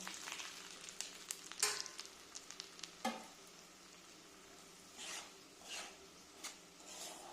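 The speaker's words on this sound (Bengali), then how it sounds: "এবার আমি এটাকে সুজিটাকে দিয়ে একটু হালকা নেড়ে নেব।" Semolina is lightly stirred and roasted in ghee in a kadai, giving faint, intermittent scraping strokes over a soft, low sizzle.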